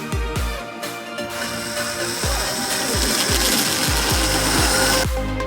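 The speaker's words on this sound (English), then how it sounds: "Punch and use your hole saw to cut through." A hole saw cuts through material while building a DIY floating monkey bars obstacle. It makes a steady, loud rasping grind, punctuated by repeated low thumps, and runs close and continuous for about five seconds.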